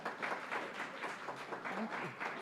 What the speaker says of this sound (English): give the applause until they get here